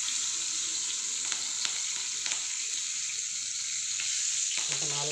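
Green chillies crackle in a pan for a spicy karam pulusu, a soft steady hiss broken by a few sharp pops and, near the end, a brief clatter.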